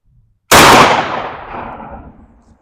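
One loud, close 12 gauge shotgun slug shot: a sharp blast after a moment of near silence, followed by a long decaying boom and echo.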